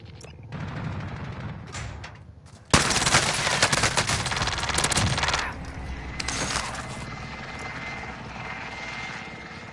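An airstrike in an online shooter game arrives with a sudden loud blast, then a roaring helicopter-like engine drone mixed with heavy machine-gun fire, tapering off toward the end.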